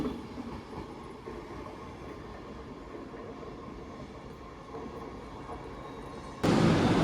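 Class 390 Pendolino 39119 pulls out of London Euston toward Manchester Piccadilly with a steady, moderately faint rumble of wheels and motors that turns abruptly louder and harsher near the end.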